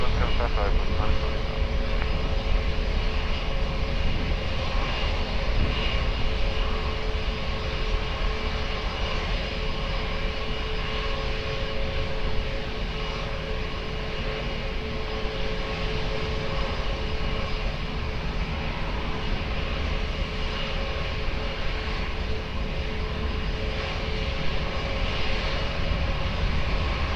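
Aircraft engines roaring on the runway at Lisbon Airport during a rolling takeoff, a loud continuous broadband rumble with steady tonal whine held throughout, mixed with radio chatter from air traffic control.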